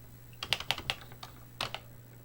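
Typing on the keyboard of a Color Computer 3 (CoCo 3) produces a handful of sharp, close keystrokes in a short burst, a pause, then a couple more clacks over a low steady hum.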